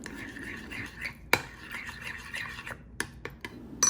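A spoon stirs Truvia sweetener into a yogurt mixture, giving soft rubbing and scraping strokes with a few sharp clinks against the bowl, close and moderately quiet.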